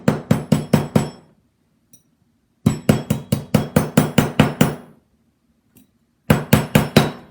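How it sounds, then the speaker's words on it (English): A rawhide mallet strikes a copper cuff blank in sharp, ringing bursts of five to ten quick blows, with short silent pauses between each run, close and loud. "And I'm going to take this rawhide mallet."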